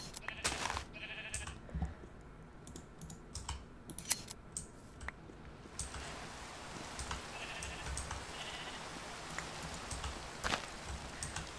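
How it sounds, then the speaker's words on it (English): Sheep in Minecraft let out short bleats now and then, mixed with soft keyboard typing and clicks during a quiet gameplay session. "Okay, there's some sheep here."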